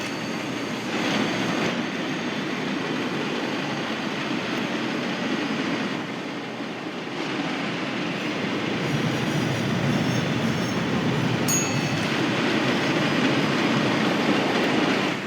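An oil train rolls along the rails with a continuous heavy rumble and clatter of wheels, loud and close throughout, with faint squeals rising near the end.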